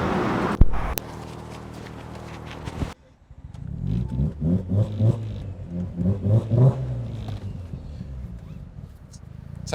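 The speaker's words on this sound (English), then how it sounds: "That's how you have to start a rotary, you just gotta rev it." A flame-throwing Mazda FD RX7 rotary engine turns over briefly, then catches and is blipped in a series of sharp, uneven revs nearby, with a little background chatter.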